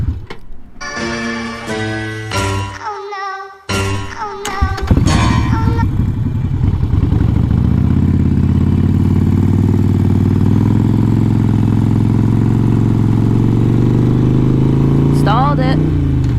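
A Harley motorcycle idles with a steady, loud low rumble after some clicking and brief tonal sounds at the start, with a person talking over it.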